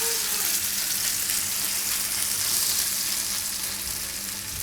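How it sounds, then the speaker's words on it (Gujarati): Aloo uttapam batter sizzles steadily on a hot pan, a loud continuous frying hiss that holds evenly throughout with no talk over it. "અને આ રીતે તળાઈ દેવાનું."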